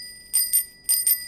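A bell sound effect rings in two quick double-ding pairs, bright metallic chimes like a bicycle bell, close and clear against near silence.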